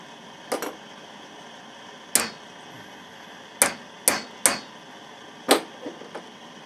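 Hammer blows on a hacksaw blade being shaped into a woodcarving gouge, six or seven sharp metallic strikes at uneven intervals, close and loud against a quiet background.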